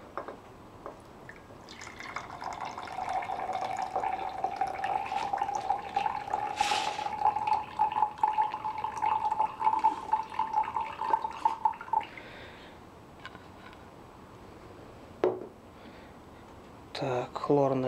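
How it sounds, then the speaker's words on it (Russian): Tin chloride solution is poured into a filter during palladium recovery from computer parts, making a steady trickling, rising fill tone for several seconds, with drips afterwards. Someone talks quietly alongside. "хлорное олово налили и сюда льем"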